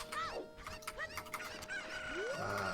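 Chickens cluck and squawk in Ocarina of Time randomizer gameplay, a quick burst of short rising and falling bird calls layered over faint background music.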